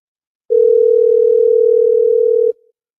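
Steady telephone dial tone on a line while calling someone back during a call-in radio program, a single continuous loud tone for about two seconds, then cut off, with no talking.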